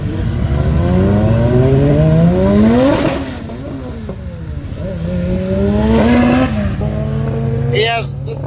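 At a drag race, a Toyota MR2 fitted with a K-series engine launches and screams through rising gear pulls with tire chirp, loud and close. Shouts and crowd chatter carry over the engine noise.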